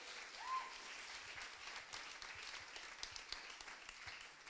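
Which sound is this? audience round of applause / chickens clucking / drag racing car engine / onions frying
audience round of applause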